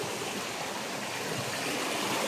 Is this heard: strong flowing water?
yes